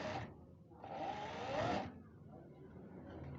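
A sewing machine stitches fabric for a kameez neckline, its motor whirring close by in a short burst and then a longer steady run, followed by a softer lingering hum.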